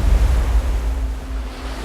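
Ocean surf rolls and washes continuously, with heavy low rumbling and wind buffeting the microphone; loud and close, with no voices.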